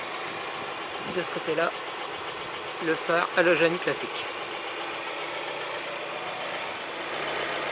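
A car engine idles steadily through a headlight test, a low continuous hum beneath someone speaking French in short bursts, close to the microphone.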